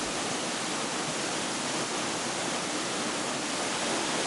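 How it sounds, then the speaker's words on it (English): Neidong Waterfall cascades down a cliff face into a valley, a steady, dense roar of falling water that stays even and unbroken throughout, with no voices. "As you watch it cascade down the cliff face, the crashing water echoes and reverberates throughout the valley."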